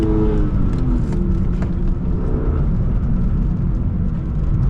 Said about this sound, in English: right now, I'm putting my foot on the gas